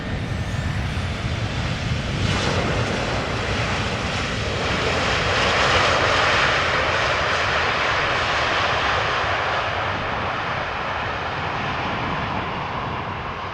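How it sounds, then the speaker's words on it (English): A heavy jet airliner touches down at Amsterdam Schiphol, a broad, loud engine roar swelling and then easing off as it rolls along the runway, heard alone without voices. "The next heavy is already touching down."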